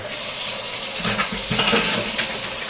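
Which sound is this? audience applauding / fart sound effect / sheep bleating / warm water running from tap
warm water running from tap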